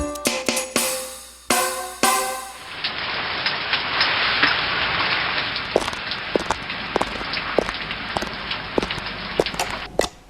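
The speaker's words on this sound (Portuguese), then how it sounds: "Essa chuva pede silêncio" Steady rain falls on a surface, a dense continuous hiss with scattered sharper drips and taps, preceded by a few loud knocks and thuds at the start.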